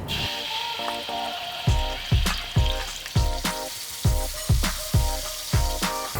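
Chili paste fries in a little oil in a wok with a loud, steady sizzle and a regular series of thumping, scraping strokes, about one each half second, as it is stirred.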